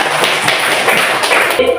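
A group clapping hands in a classroom-style coaching session, a dense steady patter of claps filling the clip with a voice mixed in.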